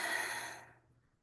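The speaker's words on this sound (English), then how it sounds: "So we're just breathing as we tap over the head." A single slow, audible exhale during a calming tapping exercise. It is breathy and close, and fades out over about a second.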